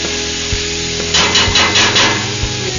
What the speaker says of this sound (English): the fennel, the leeks, peppers, and garlic, and tomato paste. That. I'm sauteing it together.